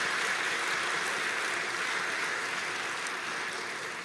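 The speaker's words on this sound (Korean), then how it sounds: "우리 따뜻한 축복과 격려의 박수 부탁드리겠습니다." A church congregation applauding the worship choir at a morning service, steady dense clapping throughout without a break.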